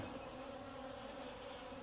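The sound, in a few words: bees buzzing at a hive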